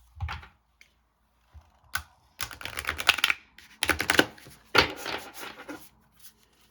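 Stiff Akashic Records oracle cards are riffled and shuffled by hand in several quick bursts of crisp flapping and clicking, with short pauses between.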